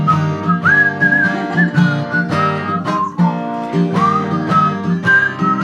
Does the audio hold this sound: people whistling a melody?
yes